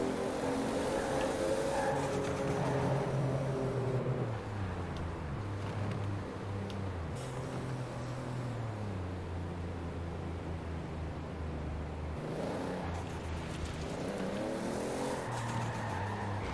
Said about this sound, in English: It like does blow off valve noises and then it goes straight to compressor surge.